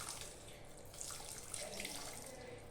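A cup of water poured into a pot of spiced fish curry gives a faint, continuous splashing stream running for the whole few seconds, with no voices.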